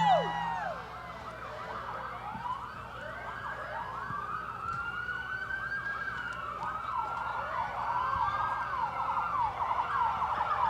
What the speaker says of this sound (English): parade starts off with fire trucks and police cars